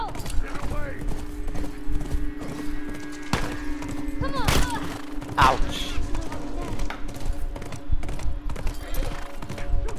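Horse hooves clip-clop in The Last of Us Remastered, uneven thuds arriving in bursts amid gunfire-like knocks and in-game noise, while someone talks excitedly over them.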